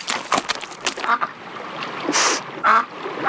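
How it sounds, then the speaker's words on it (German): A cartoon duck in an animated German children's story gives a few short, bright quacks in quick bursts, close and clear, with gaps between calls. "Ich bin eine Ente, antwortete stolz eine Ente."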